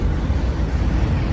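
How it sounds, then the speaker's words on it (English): A passing train produces a loud, continuous low rumble, heard close and steady throughout with no talking. "Train going by."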